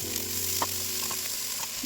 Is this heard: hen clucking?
no